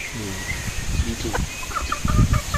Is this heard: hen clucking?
yes